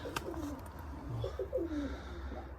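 Pigeons at a pigeon market in Lublin give a few soft, close coos, a short run of low rolling calls over faint background noise.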